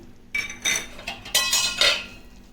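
A metal spoon adds two spoonfuls of MTR vangibath powder into a pan, making about five bright clinks and taps against the metal, spaced irregularly, close and fairly loud with quiet in between.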